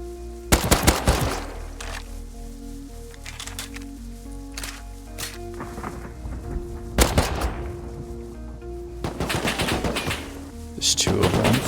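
Bursts of AK rifle fire in a video game, a loud rapid volley near the start, another burst around the middle and more toward the end, with a steady game soundtrack beneath.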